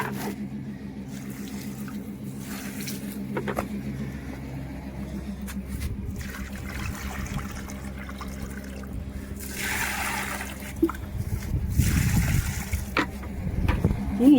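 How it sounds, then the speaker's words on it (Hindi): Water is poured onto sun-scorched cucumber plants outdoors, heard as a soft splashing trickle that swells in the last few seconds over a low, steady background rumble. "तो गाइस पानी और दे देती हूँ जल्दी जल्दी से।"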